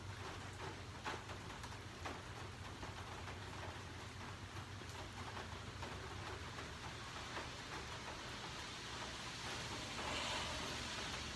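Steady warm rain falling outdoors on a Sunday ramble, a continuous soft hiss of drops with a low constant rumble underneath, even and moderately loud throughout with no voices.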